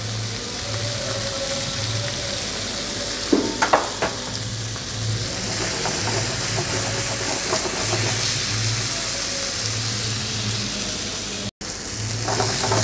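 Trout and vegetables sizzle on a hot grill with olive oil, salt, oregano and black pepper, a loud steady frying hiss with a low pulsing hum beneath and a few brief clatters.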